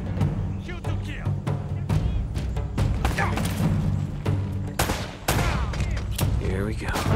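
Heavy firefight in Uncharted: Drake's Fortune, with bursts of rapid gunshots and sharp impacts cracking close and loud throughout, broken by brief lulls, with some voices mixed in.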